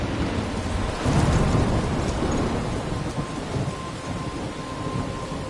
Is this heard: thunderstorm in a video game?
yes